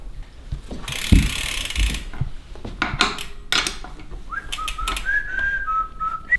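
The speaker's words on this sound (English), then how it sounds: "Sorry, I should probably not whistle." Someone whistles a short tune over clicking, ratcheting mechanical sounds of mountain bike pedals being installed and a burst of hissing near the start.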